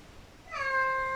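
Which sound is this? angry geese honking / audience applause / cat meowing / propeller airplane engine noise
cat meowing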